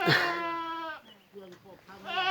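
Goats on a farm, grown mother does and young does, give loud wavering bleats at the start and end, with a quieter stretch of talk in between.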